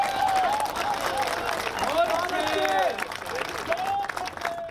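Audience at a comic poets' show aboard a boat on the Hooghly River claps for the poets, a steady wash of applause with voices and a few shouts rising above it.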